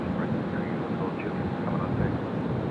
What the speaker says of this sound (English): The A380 making an early rotation.